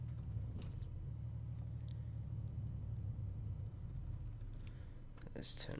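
Renault Range T480 Euro 6 V6 truck in Euro Truck Simulator 2, engine idling and pulling away in first gear: a steady, deep low rumble runs throughout, with someone talking over it.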